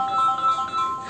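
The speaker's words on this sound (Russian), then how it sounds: "Опять зазвонил телефон." A mobile phone rings with a steady electronic tone repeating across a little over a second, fairly close and clear, with no talking over it.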